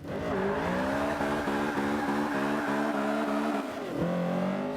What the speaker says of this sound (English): This engine sounds pretty good.